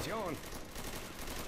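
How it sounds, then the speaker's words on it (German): Gunfire in the zombie shooter Left 4 Dead 2 rattles in a dense, continuous burst of rapid shots, while a voice talks briefly at the start. "Die draußen am Rumballerieren, ey."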